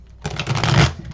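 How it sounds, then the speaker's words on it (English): A deck of tarot cards being shuffled once, a brief crisp riffle of papery flutter close to the listener, rising and fading within about a second. "So let's give these a couple of shuffles and we'll get started."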